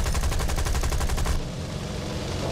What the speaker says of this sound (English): We're getting shot at. Someone's shooting at me.